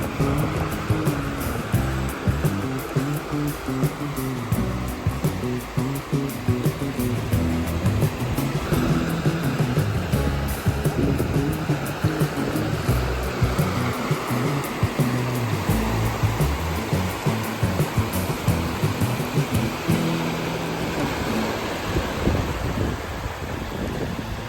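Sea waves break and wash continuously onto a beach on a sunny day, a steady, close surf roar with light wind noise and no voices.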